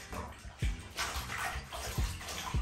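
Water sloshing and splashing in a filled tub as APC selvedge denim jeans are hand washed for the first time, with a few sharper low splashes standing out over a steady wet churn, close and moderately quiet.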